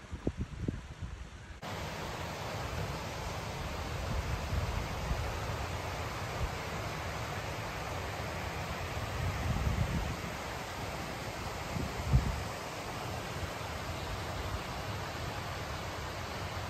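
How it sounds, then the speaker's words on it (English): Rushing white water on a trail, loud and steady broadband roar throughout, with a slight surge near the middle; no voices. "A lot of white water today. Pretty noisy."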